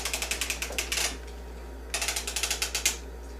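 A circular sock knitting machine is cranked by hand while a sock toe is being shaped, giving two bursts of quick, even mechanical clicking and ratcheting with a short pause between them. The sound is close and steady, and no one speaks.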